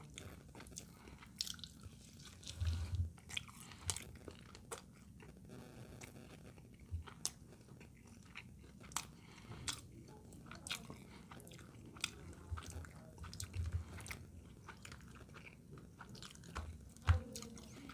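Faint, close crunching and chewing of a food truck burger topped with cheese, with soft irregular bites and mouth sounds scattered across a quiet background.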